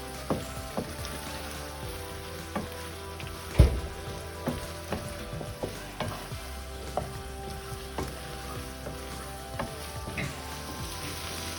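Prawns roasting in a non-stick pan, a steady soft sizzle broken by frequent clicks and scrapes of stirring, with one louder knock near the middle.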